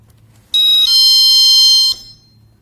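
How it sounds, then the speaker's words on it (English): A GE personal security window and door alarm gives a single loud, piercing electronic tone that holds steady for about a second and a half, then cuts off into near silence. "You activate it, and then you slide it to Chime"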